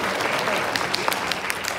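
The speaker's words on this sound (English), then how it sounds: "You can clap for carpet." A church congregation claps during a Sunday morning worship service in the sanctuary, a dense, close burst of applause that carries on without a break.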